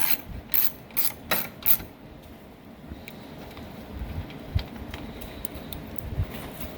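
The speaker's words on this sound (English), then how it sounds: "First, I guess you got to remove these bolts in here." A ratchet loosening 10 mm headlight bolts on a 2015 Ford F350 gives four sharp close clicking bursts in quick succession, then fainter, scattered ticks and handling noise.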